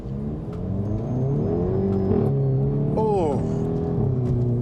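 A 2021 Hyundai i30 N automatic revs hard through its opened exhaust and drops through a gear, its note falling then rising again, loud and close, with a person speaking briefly over it.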